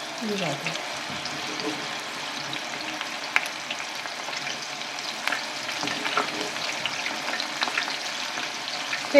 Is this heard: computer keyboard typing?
no